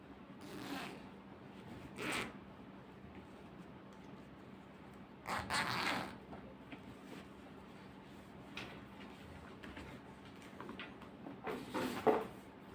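Unboxing a red Torc T15 full-face motorcycle helmet that comes wrapped in cloth: quiet rustling and packaging handling, with a few louder scrapes and tears near the mic and no talking.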